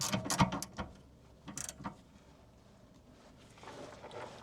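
A torque wrench ratchets on an anti-roll bar drop link bolt of a Ford Transit Connect MK1, with close clicking pulls in short bursts and quiet pauses between them.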